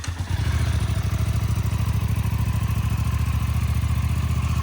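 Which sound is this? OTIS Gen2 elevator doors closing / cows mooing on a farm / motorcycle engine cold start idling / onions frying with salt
motorcycle engine cold start idling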